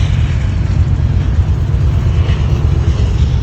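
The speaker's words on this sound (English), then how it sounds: "And please excuse the train." A loud, steady low rumble with broadband roar, like a train passing nearby, continuous throughout.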